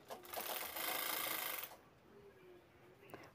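A sewing machine runs a quick burst of stitching along the seam of a small girl's dress, a fast, bright whirring that lasts under two seconds before it stops, leaving a quiet room and a faint click.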